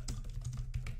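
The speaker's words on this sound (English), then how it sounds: "we can just start typing whatever we want here" Typing on a computer keyboard, a quick run of soft clicking keystrokes at close range, with no talking.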